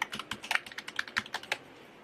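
Keys clatter in quick, uneven bursts on a Portronics Bubble Bluetooth keyboard, close up and fairly quiet, with about a dozen rapid keystrokes and no voices.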